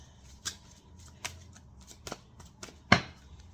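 Tarot cards being shuffled by hand, heard as a few separate crisp snaps and riffling flicks spaced out over a few seconds against a quiet background, with no talking.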